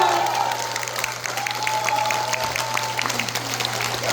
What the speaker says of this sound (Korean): 여러분 큰 박수로 다시 한번